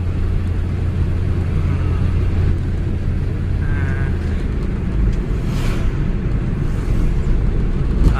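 A used Nissan NV gasoline pickup truck driving on a road, its engine and tyre rumble steady and loud throughout, with no voices.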